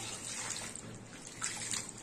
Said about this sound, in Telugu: ఇగోండి పెసరపప్పుని బాగా మనం 3 సార్లు కడిగి పెట్టుకుందాం బాగా కలిపి కలిపి కడుక్కోవాలి